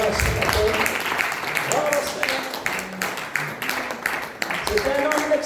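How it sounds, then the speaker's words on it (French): A church congregation claps and cheers in a lively burst, with voices mixed among the scattered, uneven applause. "Donnez-moi de l'applaudissement, Seigneur, ce matin."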